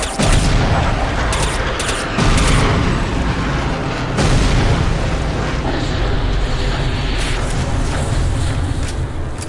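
Dense, continuous gunfire and explosive booms from the video game Counter-Strike Condition Zero, loud and close, with rapid bursts and heavy impacts running throughout and no pauses.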